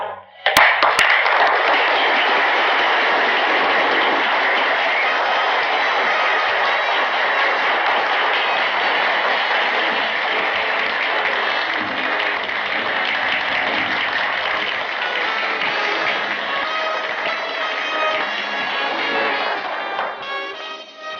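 A large crowd applauds loudly and steadily for about twenty seconds, a dense wash of clapping that fades slightly near the end.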